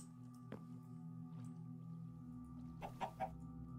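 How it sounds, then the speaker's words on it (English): Video game chicken clucking in short bursts, with a louder cluster near the end over a steady droning background. "The boat will be clucking."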